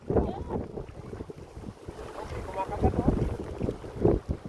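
Strong wind gusting over a small fishing boat at sea, buffeting the microphone in heavy rumbling bursts while voices talk intermittently underneath.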